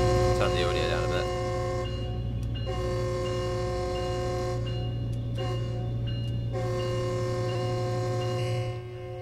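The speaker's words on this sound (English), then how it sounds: "it's like two long blasts of the horn, a short blast, and then a long blast when you're actually going over it" Locomotive horn on the F125 in Train Sim World 5 at a San Bernardino Line level crossing, sounding three sustained blasts separated by short gaps over a steady engine rumble and hum.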